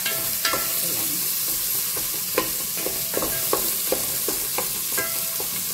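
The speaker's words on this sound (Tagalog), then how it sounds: "Ginita ko na yung sibuyas, bawang, and luya." Onion, garlic and ginger for chicken tinola sauté in a pan, a constant close sizzle broken by regular clicking taps and scrapes of a spatula against the pan.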